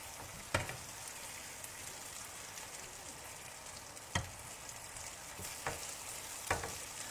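A whole piece of vegetarian chicken fries in a pan, giving a steady, fairly quiet sizzle with a few sharp pops and crackles scattered through it, and no one talking.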